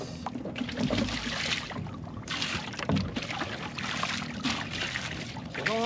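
A small boat on water, with sloshing, splashing and knocking sounds close by and irregular bursts of water movement throughout.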